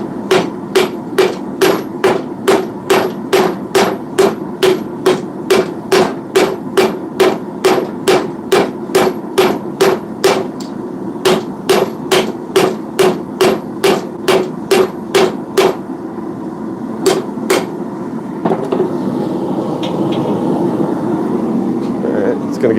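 Hammer blows forging a hot railroad spike into a knife: loud, sharp, evenly spaced metallic strikes in a rapid steady rhythm, pausing briefly, resuming, then giving way to a steady machine hum.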